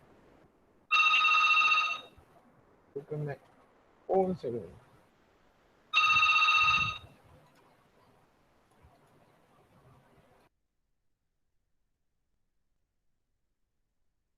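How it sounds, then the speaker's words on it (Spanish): A telephone rings in two loud, steady electronic bursts about five seconds apart, with a brief spoken phrase and some faint movement noises between them, then silence. "estaba sonando otra vez el teléfono"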